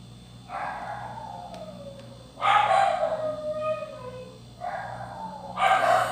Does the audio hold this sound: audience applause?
no